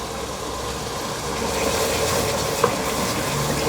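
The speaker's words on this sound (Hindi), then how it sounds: "अदरक को भी हमने अच्छे तरीके से भून लिया।" Ground ginger frying with green chillies in a pan of oil, a steady soft sizzle with faint stirring, one brief clink near the end.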